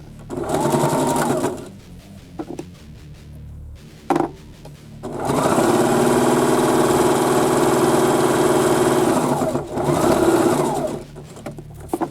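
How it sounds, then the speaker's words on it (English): A sewing machine stitches denim to checkered faux leather fabric, running in loud, close mechanical bursts: a short run, a pause with a click, then a long steady run and a final shorter burst. "Now we're going to sew the denim to the faux leather checkered fabric for the base to make the outside of the bag."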